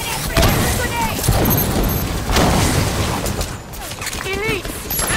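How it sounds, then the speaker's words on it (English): A grenade explodes amid a firefight in the video game Halo 5: Guardians, a loud boom blended into dense, continuous gunfire and battle effects, with voices shouting over the combat. "Grenade!"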